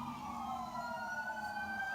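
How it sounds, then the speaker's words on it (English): Ambulance sirens wail at a distance, a steady high tone with faint harmonics holding for a couple of seconds, fairly quiet and without talk. "That was 4 ambulances."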